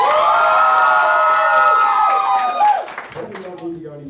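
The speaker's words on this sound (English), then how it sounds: "I want to hear incredible applause" A crowd cheers loudly with a sustained, whooping roar that dies away after a few seconds.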